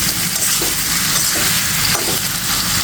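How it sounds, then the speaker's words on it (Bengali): Potatoes fried with spices in a pan give a steady close sizzle, with stirring scrapes breaking through it now and then. "আলুটা দিয়েও এই মশলার সাথে একটু কষিয়ে নিচ্ছি হালকা"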